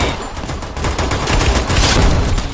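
Video game gunfire: loud, dense rapid bursts of automatic fire, continuous and close, filling the whole moment.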